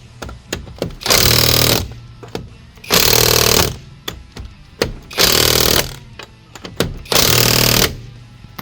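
Powerful impact gun driving car wheel lug nuts, four loud sustained hammering bursts of about a second each with brief gaps between, alone and close.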